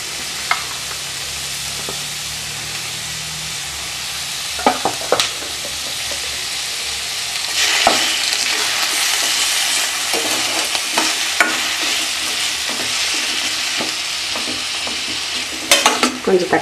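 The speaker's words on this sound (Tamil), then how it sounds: "இந்த அளவுக்கு வதங்கி தக்காளி சேர்த்துக்கலாம்." Onions and tomatoes sautéing in a pressure cooker for coconut milk biryani: a loud, continuous hiss of frying with frequent scraping and knocking of a spoon stirring against the metal, close up and without voices.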